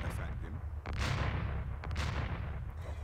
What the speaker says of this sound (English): The hand cannon is getting to work already.